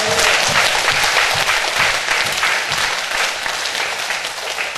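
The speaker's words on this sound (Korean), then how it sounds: "하나님께 영광의 박수 한번 드리시겠습니다" Sustained applause from a church congregation at an evening revival meeting, dense and steady throughout, loud and close with no clear voices standing out.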